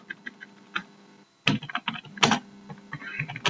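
Keys clatter on a computer keyboard as a program line is typed, with quick, irregular close-up taps, a brief pause, then denser bursts of typing.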